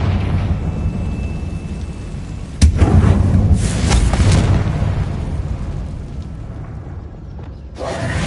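A Confringo spell explosion in Hogwarts Legacy bursts with a sudden loud boom, then a long rumbling, crackling tail fades away before a second, smaller blast arrives near the end.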